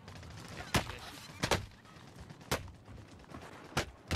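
Gunfire aimed at the player in Warzone, Call of Duty's battle royale, cracks out as five or six sharp, separate shots spaced irregularly over a few seconds, moderately close and punchy against quiet game ambience.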